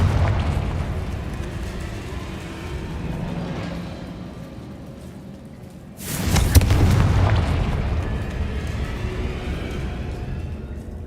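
A Confringo spell explosion in Hogwarts Legacy, a single loud booming blast that erupts midway and rumbles into a long roaring tail over a low background hum.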